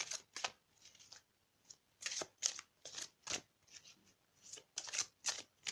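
Tarot cards are shuffled in quick bursts of crisp riffling and slapping, repeating unevenly at close range in a quiet room.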